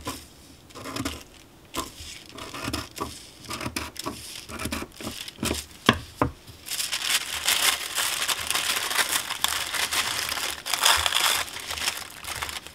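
Tissue paper being handled, torn and wrapped around a candle gives close, steady crinkling and crumpling with scattered sharp rustles and taps, growing denser and louder in the second half; no talking.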